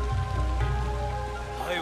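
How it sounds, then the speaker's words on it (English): Steady rain patters on surfaces in the video game Assassin's Creed Shadows, a continuous hiss layered over low hum and tonal game music, with no one speaking. "I just noticed it's raining and it's sunny"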